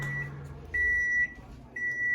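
A kitchen microwave oven finishing a two-minute broccoli steaming cycle gives three sustained beeps, each about half a second long, close and clear over a low appliance hum.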